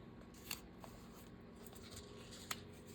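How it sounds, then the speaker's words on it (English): Scissors fussy cutting around a magazine cover, quiet with just a couple of crisp, close snips over a soft background hush. "fussy cut the cover of that magazine"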